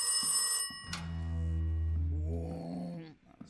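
A telephone in the horror video game Rise of Insanity gives a loud, bright bell ring that cuts off into a deep, sustained droning tone, with a faint groan-like sound near the end.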